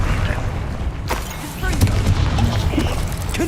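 Confringo and Incendio spell blasts in Hogwarts Legacy, several booming impacts and crackling bursts in quick succession over a rumbling background.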